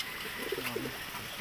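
Racing pigeons coo softly at a distance, a brief low murmuring call set against faint outdoor background noise.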